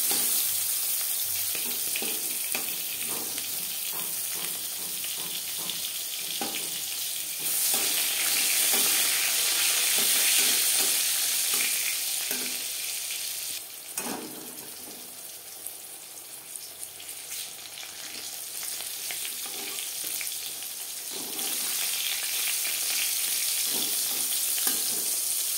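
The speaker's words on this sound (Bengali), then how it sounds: "পটল ভাজা হয়ে গেছে, সুন্দর একটা কালার চলে এসছে।" Slices of pointed gourd (potol) frying in hot oil, a steady hiss and crackle of sizzling that swells and softens, with occasional stirring scrapes in a quiet kitchen.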